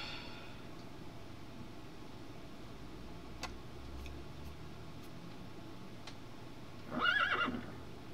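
A Minecraft horse gives a single short neigh near the end, after a long stretch of quiet game ambience with a few faint clicks and soft hoof steps.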